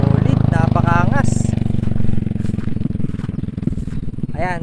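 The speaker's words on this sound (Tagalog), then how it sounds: "yan po yung tunog ng Acropovic pag naka open pipe po siya" The Akrapovic open exhaust pipe on a Yamaha XMAX 300 scooter gives a low, rough engine rumble close by, nearly continuous beneath someone talking.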